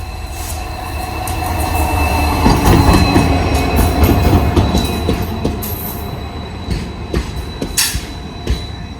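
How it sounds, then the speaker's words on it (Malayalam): An afternoon passenger train rolls past at Suravali, Goa, loud and close, with steady wheel rumble, clattering rail joints and bright metallic squeals from the wheels throughout. "ഇത് ഉച്ചക്കത്തെ പാസഞ്ചറാണ്."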